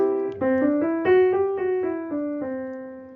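A short melody in the Lydian mode of sustained single notes moves stepwise up and down, played at a steady pace on a clear, bright-toned instrument, with no voices.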